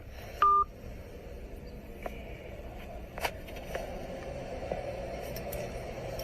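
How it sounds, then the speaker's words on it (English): A single loud telephone tone beeps once after a call is hung up, followed by faint background crackle and scattered small noises. "He just hung up the phone."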